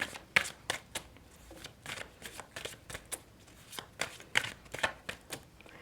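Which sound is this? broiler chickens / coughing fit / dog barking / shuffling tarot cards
shuffling tarot cards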